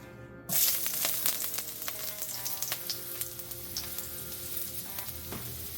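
Garlic hits hot oil in a pan for bok choy and bursts into a loud, close sizzle. The frying then settles into a steady crackle with occasional stirring clinks.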